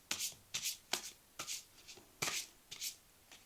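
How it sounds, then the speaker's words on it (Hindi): Tarot cards being shuffled in quick separate bursts, about seven crisp riffling flutters close by and fairly soft, with short pauses between. "Okay, let's shuffle up."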